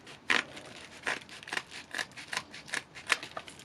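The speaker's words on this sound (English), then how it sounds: "I guess I'll just cut it with some scissors" Repeated crisp snips of scissors cutting, about ten quick cuts in an uneven rhythm, close and fairly quiet with no talking.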